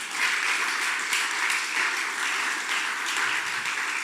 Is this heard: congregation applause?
yes